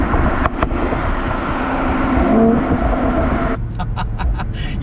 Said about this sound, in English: you get some nice feedback from the exhaust.